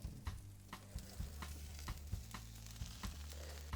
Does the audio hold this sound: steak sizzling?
yes